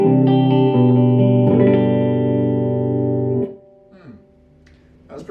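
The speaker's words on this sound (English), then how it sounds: "I like the reverb on it, it's very good." Electric guitar chords through a budget practice amp on the clean channel with reverb, ringing out loud and steady for a few seconds before the strings are cut off and a short reverb tail fades.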